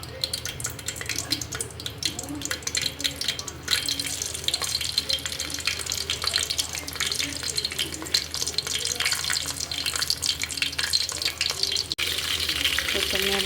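Two or three green chillies sizzling in hot oil in a pan, a steady close frying hiss with watery crackle throughout, while someone talks over it.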